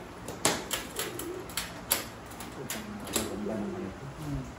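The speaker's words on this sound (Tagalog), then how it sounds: "Napakagandang ibon mo nito." Newly arrived breeder pigeons from Belgium coo softly indoors, with several short sharp flutters and clicks scattered among low, repeated cooing calls at moderate distance.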